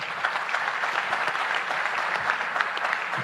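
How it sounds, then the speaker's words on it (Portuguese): Steady crowd applause at a symposium on fifty years of Mozambican independence, a dense, even patter of many hands throughout, moderately loud with no talk. "Eu gostaria de pedir uma salva de palmas"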